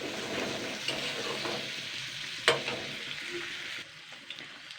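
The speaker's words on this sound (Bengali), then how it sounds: "এটাকে দিয়ে আমি একটু আবার একটু নেড়ে চেড়ে নেবো হালকা করে পেঁয়াজের কাঁচা গন্ধটা চলে যাওয়া অবধি" Onions fry and sizzle in a pan while being stirred, a steady close crackling hiss with occasional scraping clinks of the utensil against the pan, no talking.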